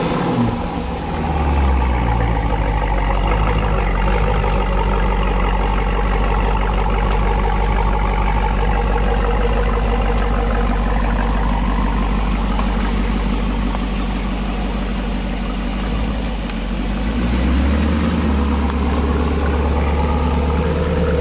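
A 2020 Dodge Durango R/T fitted with a Borla S-Type cat-back exhaust rumbles steadily at idle, a deep continuous engine drone that stays loud and close with slight swells throughout.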